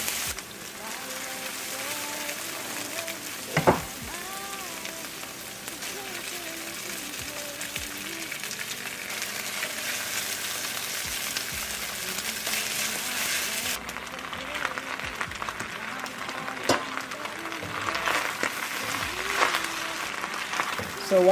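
Rice frying and sizzling in a pan for fried rice, a steady crackling hiss throughout with occasional clatter of utensils and a voice talking over it.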